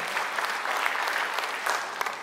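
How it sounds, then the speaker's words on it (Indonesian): A church congregation at a Sunday worship service bursts into brief, steady applause, the clapping close and continuous with no talking over it. "Amin, tepuk tangan bagi dia."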